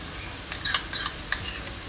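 Ginger garlic mixture with oyster sauce, light soy sauce and sugar stirred for a steamed ginger chicken dish, heard as a few light scraping clinks over a faint steady background.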